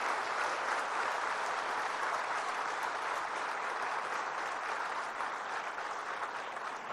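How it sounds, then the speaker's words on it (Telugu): A large crowd at a government appointment-letter ceremony for newly recruited assistant engineers applauds in a continuous, even roar of clapping, moderately distant and steady from start to finish. "మీరు పెద్ద ఎత్తున వారిని చప్పట్లతో అభినందించండి."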